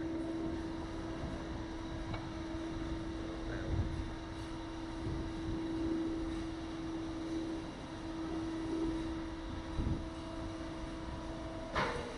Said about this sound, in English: try not to hit one of the helicopters flying over